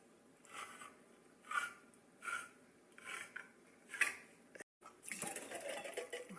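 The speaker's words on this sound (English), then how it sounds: "Opening up a can of black beans and a can of tomato paste." Cans of black beans and tomato paste being opened in a home kitchen, heard as a few separate clicks and metallic scrapes spaced over several seconds, followed by a denser clatter of handling, fairly quiet with no talk.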